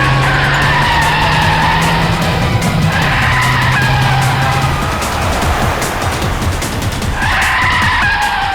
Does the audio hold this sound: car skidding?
yes